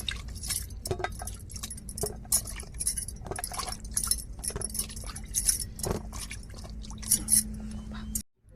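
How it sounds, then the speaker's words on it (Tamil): Eggplants rinsed by hand in water near a wood-fired stove, with irregular sloshing, dripping and clinking splashes close by and a faint steady hum under them, ending abruptly. "கத்திரிக்காவை தண்ணியில் நல்லா அலசி எடுத்துக்கிடுவோம்"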